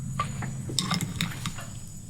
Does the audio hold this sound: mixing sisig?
yes